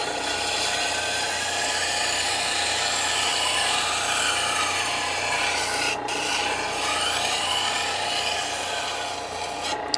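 A knife blade grinds against a powered sharpening machine, giving a steady gritty rasping hiss with a low motor hum underneath, continuous and close, with no talk.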